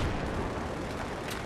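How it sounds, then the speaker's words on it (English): A grenade blast in the shooter game Battlefield 3 comes as a loud, sustained broadband roar of rumbling explosive noise that fills the whole moment without letting up. "Throw a grenade at Adrian."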